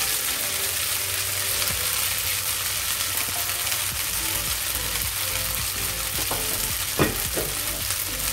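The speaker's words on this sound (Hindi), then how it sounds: "स्पैगेटी जो मैंने बॉइल की थी वो इसके अंदर मैं शामिल कर दूंगी।" Boiled spaghetti fries in a tablespoon of oil in a pan, a loud continuous sizzle with occasional scraping stir strokes near the end, no voices.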